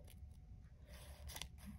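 Scissors snip through paper in a few close, crisp cuts, quiet and alone with no talking.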